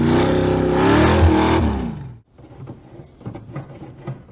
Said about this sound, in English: This is the first time a Corvette's ever climbed a mountain.